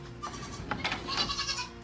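A pet goat bleats indoors, a few quiet, nasal calls heard at a moderate distance over low background noise, with no speech.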